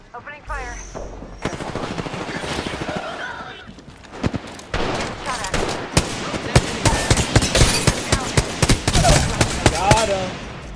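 Dense automatic gunfire from a shooter video game, with rapid bursts and single shots crackling almost continuously, loud and close, while a voice talks intermittently underneath.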